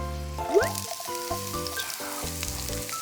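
Garlic and onion frying in a pan for a whole blue crab spaghetti; a brief, close, steady sizzle with a few stir scrapes, no voices over it.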